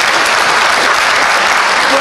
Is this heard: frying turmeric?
no